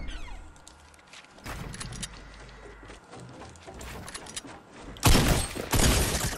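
Video game gunfire in sharp, irregular bursts, with scattered single cracks building to a loud, dense volley near the end, close and harsh.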